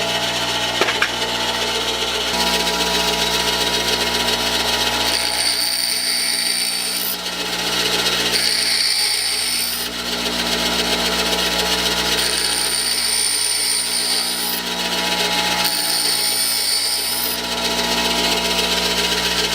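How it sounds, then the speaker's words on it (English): A bench grinder sharpening twist drill bits runs with a steady motor hum, broken by repeated bursts of high, bright grinding as steel meets the wheel, several contacts spread across the stretch. "We'll shut off the grinder"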